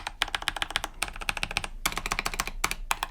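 Mechanical keyboard typed on up close, each keystroke a deep, muted thock, coming in quick bursts of rapid clacks separated by brief pauses.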